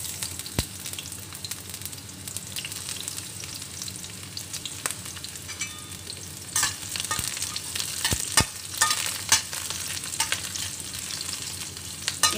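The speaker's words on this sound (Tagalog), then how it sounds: "Hintayin lang po natin na mag-brown yung ating sibuyas at bawang." Garlic and onion fry in cooking oil for Filipino pinakbet, a soft, even sizzle with faint crackles and a few sharp utensil clinks and scrapes against the pan, and no talk.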